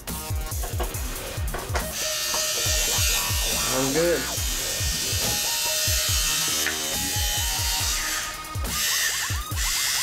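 A refurbished Andis AG hair clipper runs with a steady loud electric buzz and rattling mechanical clatter, while a person talks briefly over it.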